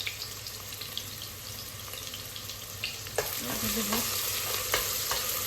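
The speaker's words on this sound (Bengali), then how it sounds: "কুচি করে রাখা পেঁয়াজগুলো দিয়ে দিলাম।" Chopped onions hit hot oil in a pan and fry with a steady close sizzle. A spoon scrapes and clinks as it stirs them, and a single short spoken word comes in partway through.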